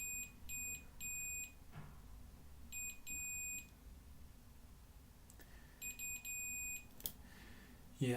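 Continuity meter beeping while probing pins on a Family Pocket 508-in-1 Famicom clone circuit board, with short clusters of repeated high beeps, close and fairly faint over low hum.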